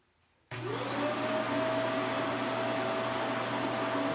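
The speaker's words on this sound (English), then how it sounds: "I'm going to go ahead and turn on the vacuum cleaner" A vacuum cleaner switches on abruptly after a moment of quiet and keeps running with a steady, loud whine and roar.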